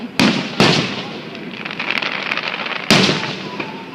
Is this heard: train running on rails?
no